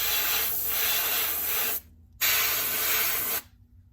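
A spray can hisses in two long bursts, each about two seconds, laying dark gray paint on a PS5 controller, with a clean pause between the bursts and a stop at the end.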